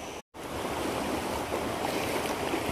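Floodwater pours across a farm field and crosses a road toward a river. It makes a steady, broad rushing wash close by, continuous after a brief dropout near the start, with no one speaking.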